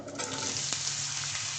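Chopped pirandai (adamant creeper) goes into hot oil with browned urad dal in a kadai, setting off a loud, close, broad sizzling rush that stays strong and steady with no voices.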